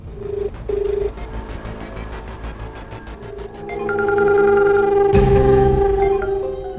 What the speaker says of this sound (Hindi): घंटी जा रही है।